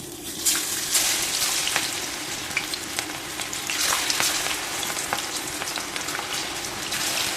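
Chickpea and cornflour pakoda batter sizzling and crackling steadily in hot oil, a loud, dense frying hiss with scattered pops close by.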